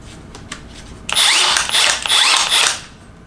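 A Milwaukee M12 Fuel cordless drill whirs up loudly in several short bursts, revving and slowing between pulses, after a quiet start.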